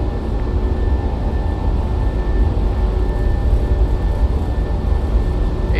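Engines of a PMDG Boeing 737-700 roar at takeoff thrust in a flight simulator, a steady, loud, continuous drone with a faint high whine, alone without voices.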